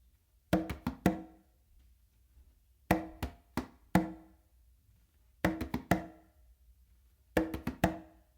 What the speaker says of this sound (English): I start with a close slap with my dominant hand on the tumba, a bass finger with my non-dominant hand on the quinto